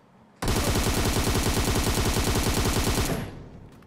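Rapid automatic gunfire in the mobile game PUBG Mobile, one loud, unbroken burst of about three seconds that cuts in suddenly and fades quickly at the end.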